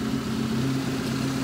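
A 1984–1987 Honda Civic/CRX carbureted engine with a DVAC and the air cleaner assembly installed idles smoothly at close range, a steady low hum with no voices.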